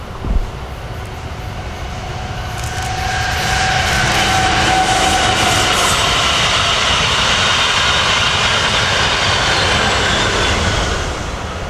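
A loud, steady rumble of a bright green train passing at ground level by the Goldenrod Tunnel in Orlando builds after a few seconds and holds, with faint squealing tones above.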